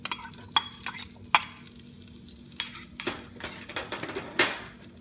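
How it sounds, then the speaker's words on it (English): Onions added to olive oil in a hot pan: a soft sizzle beneath sharp clinks and scrapes of a utensil stirring against the pan, close and fairly quiet, no speech. "Then put our onions."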